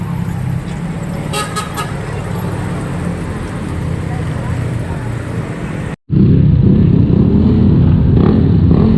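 Motorcycles idling and warming up before a group ride, with traffic noise and a horn toot in the first part, then a sudden louder, close low engine rumble after a brief cut, and voices in the background.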